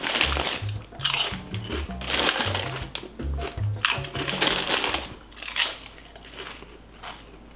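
A Doritos chip bag is crinkled and crunched up close in repeated bursts of rustling, with brief pauses between handlings.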